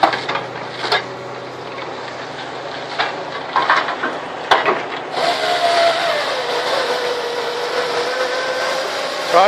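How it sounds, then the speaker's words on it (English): A chainsaw trims the end of a felled tree at a New Zealand logging site, its revving whine rising after machinery clatter and knocks, then holding steady, with no talk. "Tidies up the end of the tree, look, with a chainsaw"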